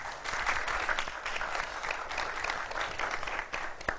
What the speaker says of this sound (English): Can you just please clap for yourself?